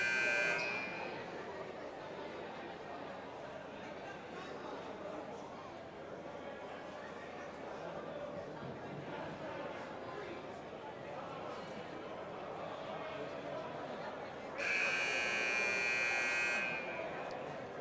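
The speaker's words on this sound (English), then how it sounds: "Buzzer sounds." A loud electronic buzzer blares at a high school basketball game, sounding briefly near the start and again for about two seconds near the end, over steady crowd chatter in the gym.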